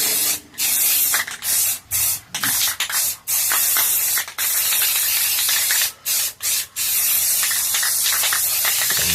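A spray paint can hisses loudly and steadily onto artwork, in long continuous bursts broken by a few brief pauses, very close and alone.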